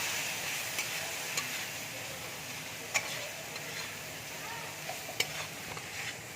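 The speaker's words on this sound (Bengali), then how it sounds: "সামান্য একটু জল দিয়ে দিচ্ছি, ভালো করে ভেজে নেব" Spice paste for chana dal fries quietly in a pan with a splash of water, a soft continuous sizzle broken by a few sharp scrapes of stirring.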